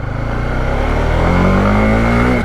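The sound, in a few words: Honda CBR 150R motorcycle engine revving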